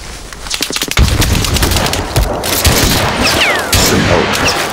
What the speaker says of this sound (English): That is more rifle grenades.